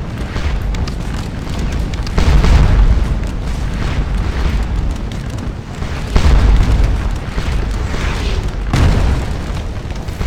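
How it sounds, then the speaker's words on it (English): Artillery fire in the Napoleonic battle game Scourge of War: Waterloo, with loud booming cannon blasts and rumbling impacts rolling continuously, heavier bursts near two, six and nine seconds. "You guys can actually see our artillery rounds striking the side there."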